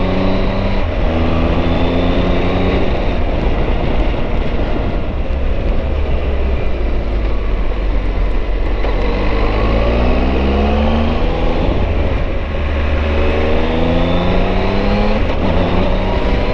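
A car drives over gravel, its engine rising and falling through gear changes while tyres crunch and rumble continuously beneath, close and loud throughout.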